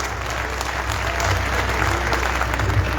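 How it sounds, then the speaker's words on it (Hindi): An audience at an open-air Hindi poetry gathering on a Ramlila ground applauds steadily, a dense, continuous wash of clapping from a large crowd that swells slightly toward the end. "एक बार सारा सदन आकाश भर तालियों के साथ"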